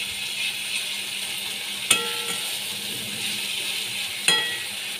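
Garlic sizzles in hot oil while prawn curry fries, a steady faint crackle with two sharp clinks of a utensil against the pan.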